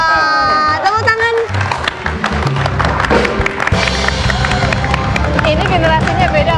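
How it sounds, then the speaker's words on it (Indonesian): Studio audience at a tvOne talk show breaking into loud, sustained applause and cheering with music playing underneath, a continuous dense clapping roar filling the room. "Tepuk tangan."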